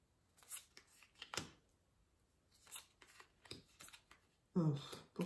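Playing cards from the solo game Lueur are handled and shuffled in quiet, scattered bursts of flicking, riffling and rubbing. A louder shuffle comes near the end.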